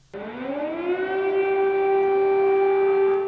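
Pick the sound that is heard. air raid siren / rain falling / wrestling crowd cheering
air raid siren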